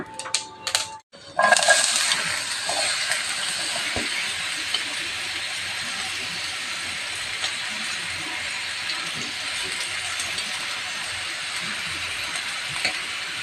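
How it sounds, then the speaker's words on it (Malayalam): A sudden burst of loud hissing sizzle as chopped ridge gourd hits hot oil with popped mustard seeds, after a few clinks, then a steady crackling sizzle continues. "കടുക് പൊട്ടിക്കഴിയുമ്പോൾ നമുക്ക് അരിഞ്ഞു വെച്ച പീച്ചിങ്ങായ ഇടാം"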